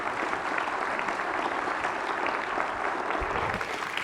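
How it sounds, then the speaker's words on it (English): Sustained applause from a conference keynote audience, steady dense clapping filling the room at a fairly even level throughout, with no voices rising above it. "Round of applause for Ash, guys."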